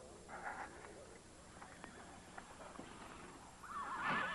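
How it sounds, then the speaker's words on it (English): Horses whinny and stamp amid a Western-style scene, a louder neigh rising near the end over faint hoof clops, with people talking in the background. "Here's my horse, and your horses too, Wishbone."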